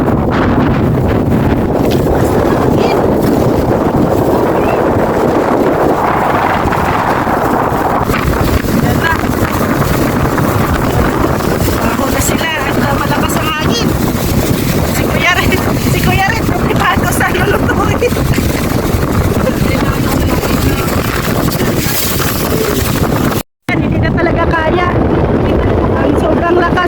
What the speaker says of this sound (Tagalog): Yung hangin, kasama pa yung hangin.